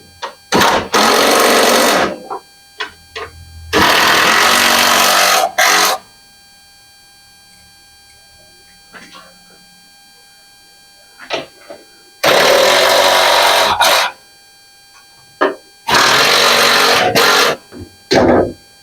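Power driver running down four bolts on a Troy-Bilt 30-inch snowblower, four loud whirring bursts of a few seconds each with quiet gaps and faint handling clicks between.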